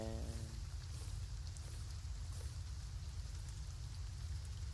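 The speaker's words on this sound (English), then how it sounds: "And what you know, it's raining." Steady rain falls in the farming video game Farm Together 2, a continuous even hiss with no breaks and no talk over it.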